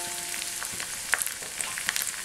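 Curry leaves crackling in hot oil with shallots, a steady close hiss of frying scattered with small sharp pops and spits, quiet and without talk.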